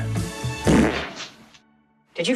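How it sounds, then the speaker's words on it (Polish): One short, low, buzzy fart comes up close within a spoken exchange, and people talk around it. "Pierdnąłeś? Pierdzę."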